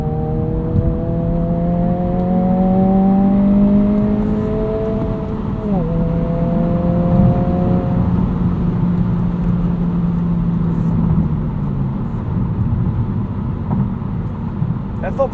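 Engine of a 2022 Honda Civic Si while driving, a steady drone that rises and falls with gear changes and revs, with a brief dip where it lets off, loud and continuous under road noise.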